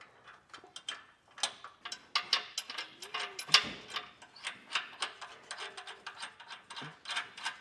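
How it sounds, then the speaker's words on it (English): A socket ratchet snugs down bolts on 18mm weld nuts while a trailer hitch receiver is fitted to a 2024 Jeep Wrangler Unlimited, giving quick bursts of close, crisp clicking that repeat steadily throughout. "Go ahead and snug them down, so it's going to be the 18mm on those weld nuts."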